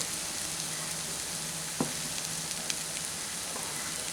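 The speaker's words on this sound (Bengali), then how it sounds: "এই মুসুর ডালটাকে আমি খুব ভালো করে কম আঁচে নেড়ে নিয়েছি।" Masoor dal frying in a pan over low heat, a steady soft sizzle with a couple of brief scraping stirs, heard close and alone.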